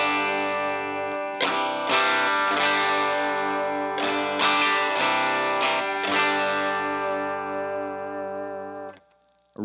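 Electric guitar played through a Morning Glory overdrive pedal with a compressor, ringing sustained chords with a few fresh strums, loud and close, thick with harmonics, fading away at the end.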